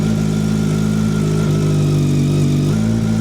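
A Kawasaki motorcycle engine runs steadily at idle, loud and close, with a slight dip in its tone as the clutch is eased out in first gear while the brake is held.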